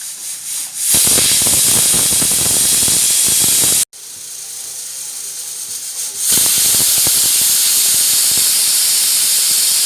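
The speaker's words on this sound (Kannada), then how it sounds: "ಇತ್ತೆ ಮುಚ್ಚಳ ಮುಚ್ಚಿಗ 5 ವಿಷಲ್ ಆವಡು" A pressure cooker of sabudana payasam vents steam in loud, close, continuous hissing bursts, with one abrupt cut and then a stronger rush of steam.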